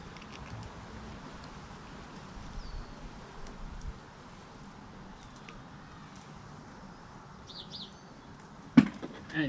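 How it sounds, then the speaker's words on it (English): Birds sing outdoors in a faint, distant way over low background noise, with a couple of brief high chirps near the start and again near the end, just before a sharp nearby clatter. "And you can hear the birds out again today."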